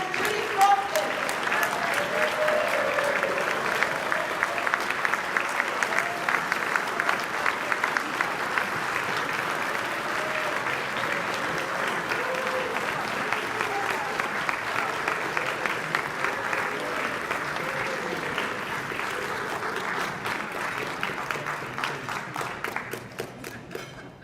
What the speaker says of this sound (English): Let's give a huge round of applause to volunteer of the year